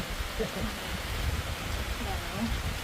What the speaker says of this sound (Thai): ฝนตกอยู่นี่หนาวด้วยครับ